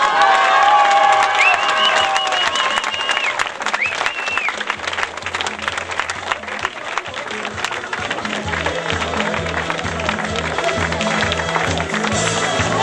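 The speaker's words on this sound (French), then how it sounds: "Je vous demande d'applaudir très fort l'Île-de-France." Crowd applause and cheering at a French regional league championship awards announcement, dense clapping with shouts and whistles throughout, music or tones underneath, loud and continuous.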